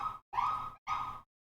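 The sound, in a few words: sirens in the background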